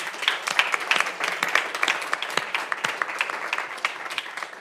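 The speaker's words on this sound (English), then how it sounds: "let's give our panelists a round of applause" An audience claps for panelists at a chamber conference, a crowd of many hands with individual sharp claps standing out, steady and moderately loud throughout before thinning toward the end.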